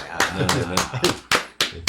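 Several sharp hand claps, spaced irregularly and fairly close, burst over ongoing conversation during a Korean interview with a city council member from Gunsan.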